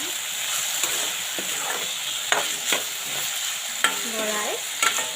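Potatoes with turmeric and salt fry in a pan, a steady close sizzle broken by several scraping stirs of a utensil, with no talk over it.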